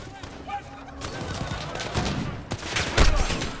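Gunfire in Call of Duty: Modern Warfare, a string of sharp shots and bursts at moderate loudness, scattered over several seconds under occasional voices and game noise.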